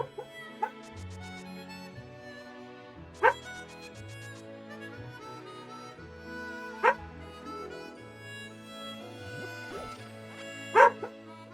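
A dog running around a beer league game venue gives a few sharp, fairly distant barks spaced several seconds apart, over a steady background of music-like tones and crowd ambience.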